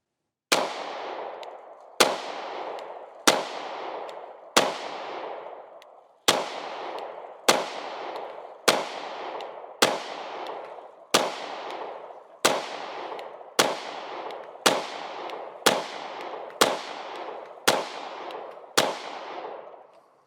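A Sig Sauer P320 X-Compact pistol fires about sixteen sharp, loud shots at a steady, unhurried pace, each crack followed by a short ringing decay on an outdoor range.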